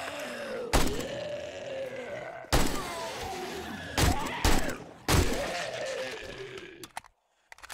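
AK rifle firing in the zombie survival game 7 Days to Die, Romero mod: four sharp, loud single shots spaced a second or so apart, each followed by groaning zombie vocals and a low background drone.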